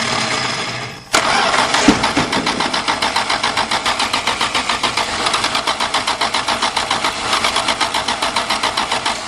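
A 1977 Dodge Tradesman van with a slant 6 engine cranks on a cold start: a sharp click, then a long run of loud, evenly pulsing starter-motor cranking that goes on without catching.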